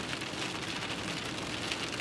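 Steady rain during a drive between Gherla and Dej, heard as a dense, even hiss of drops on the car throughout, with no talk.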